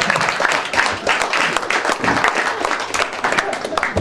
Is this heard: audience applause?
yes